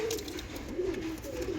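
Pigeons in a breeding loft give quiet, low cooing, a few soft rolling coos close together over faint room noise.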